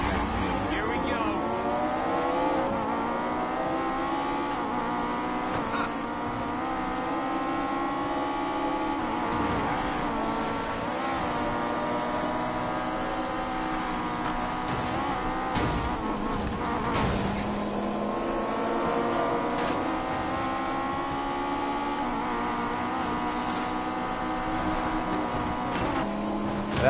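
Cars racing in Need for Speed Payback, including Lamborghinis and a Porsche, engines droning and shifting pitch continuously with revs rising and dropping, loud and close, while a voice talks over the game sound.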